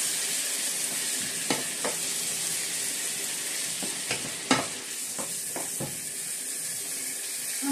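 Rice and mushrooms sizzle steadily in a frying pan, a continuous fry hiss broken by several sharp scrapes and clacks of a spoon stirring, with no voices.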